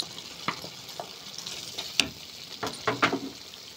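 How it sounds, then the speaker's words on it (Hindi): Onions and green chillies frying in hot oil in a pan, a soft steady sizzle broken by several sharp scrapes and clinks of stirring, close and fairly quiet. "प्याज वगैरह डालकर हमने 1 मिनट भून लिया है"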